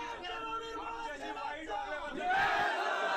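A crowd of political party workers cheering and shouting in celebration, a dense mass of voices that rises louder toward the end.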